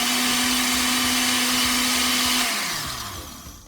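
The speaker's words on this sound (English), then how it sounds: "my ewedu, cooked ewedu is in my blender" An electric blender whirs loudly with a steady high motor whine as it purées cooked ewedu soup, then winds down and spins to a stop near the end.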